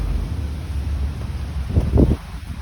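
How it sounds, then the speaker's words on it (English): Steady low wind rumble buffets the microphone throughout in Key West, Florida, swelling into a louder gust near the end before easing off. "It is a bit windy down here."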